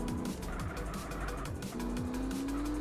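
A car drives in GTA San Andreas, its engine droning loudly and steadily with tire squeal and skidding rising over it, and no one speaks.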